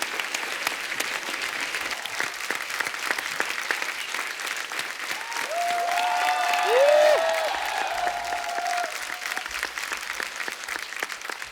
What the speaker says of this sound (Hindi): कितनी तालियां बजा रहे हैं